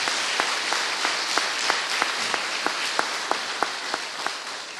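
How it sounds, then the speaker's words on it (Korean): A church congregation gives a round of encouraging applause during a Sunday service, broad, even clapping from many hands with a few sharper, distinct claps standing out at a fairly regular pace throughout. "자, 우리 격려의 박수 한번 여러분들 해주시죠."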